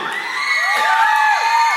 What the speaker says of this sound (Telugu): గట్టిగా ఒకసారి మీ చప్పట్లతో మీ అనుభవంతో స్వాగతం పలకాలి